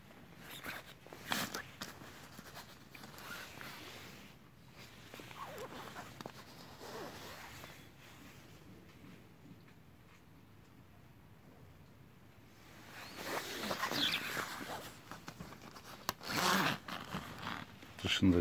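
Zipper on a hooded winter coat with side and inner pockets, pulled in short, scratchy bursts up close amid fabric rustling, while a person talks quietly nearby.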